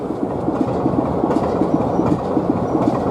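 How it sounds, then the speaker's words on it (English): British Rail Class 50 diesel locomotive 50026 rolling into a station on a heritage line, a steady close rumble with rhythmic wheel clicks over rail joints, no voices. "the Class 50 50026 heads into the station"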